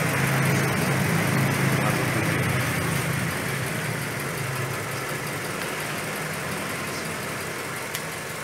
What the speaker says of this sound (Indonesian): Mesin tambah halus.